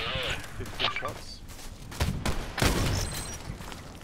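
HK G36C rifle gunfire in the Contract Wars video game, a burst of close, sharp shots with broadband cracks spread across a few seconds, some game sounds and ambient noise underneath.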